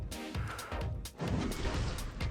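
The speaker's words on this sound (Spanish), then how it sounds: "Cada 3 disparos está haciendo la bombita" Explosions from a legendary emperor bow in the video game Frostborn, repeated booming bursts with sharp attacks amid a busy layer of game combat noise, fairly quiet overall.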